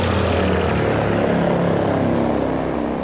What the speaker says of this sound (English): C-123 cargo plane dumping thousands of gallons of chemicals over South Vietnam, as captured in the mid-1960s by a TV news crew.